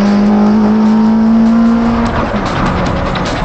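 A Lotus Exige sports car engine drones loudly at a steady pitch, then shifts and rises into a harsh, gritty roar up close, echoing in the coupe.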